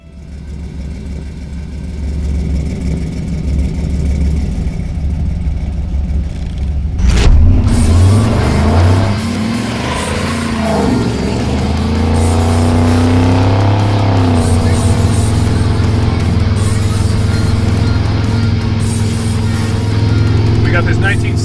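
A 1977 Chevrolet C10 pickup with an LS engine swap and high horsepower revs up partway through, its engine note rising and then holding a loud, steady drone beneath a person talking.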